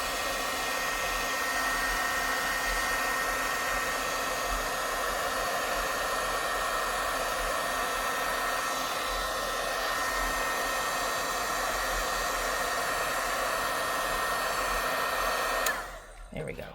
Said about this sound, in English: I'm going to heat set that really quick. My gun is already warmed up